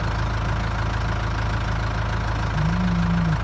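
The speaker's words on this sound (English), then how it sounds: "I don't know if you can hear him for the tractor." Tractor engine idling steadily close by on a cattle farm, a constant low throbbing drone with a faint rising tonal hum near the end, with no talk over it.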